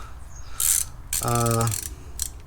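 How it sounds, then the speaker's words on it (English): A ratchet clicks in short bursts, then in one longer run, as it tightens an M12 triple-square bolt on the rear suspension of a 2003-2009 Mercedes CLK W209 during a differential replacement. The ratcheting is close and clear, with no speech. "But right now I can tighten this bolt again."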